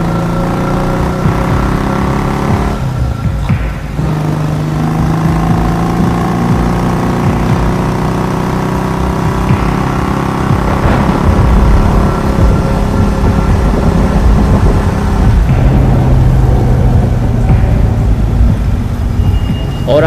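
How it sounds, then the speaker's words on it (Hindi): Motorbikes in an animated rainy-night scene start up and ride off toward an old mansion: a loud, continuous engine drone with rising revs and shifting pitch that fills the whole stretch without a break. "बुल्ली गुल्ली की बाइक पर बैठ गया और बाबा ने अपनी बाइक निकाल ली और फिर तीनों शॉन को बचाने के लिए पुरानी हवेली की तरफ चल दिए।"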